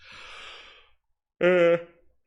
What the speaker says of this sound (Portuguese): Relevem o bocejo